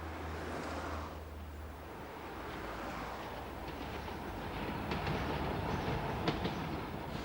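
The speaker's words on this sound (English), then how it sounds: "This is the Metro, Newcastle's gleaming new local railway system" A Newcastle Metro local railway train runs steadily with a low rumble and rhythmic clatter of wheels over rail joints, growing slightly louder toward the end.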